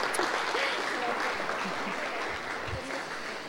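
Audience at a youth leadership course, brief applause of moderate density at a fair distance, fading slightly toward the end, with indistinct voices mixed in.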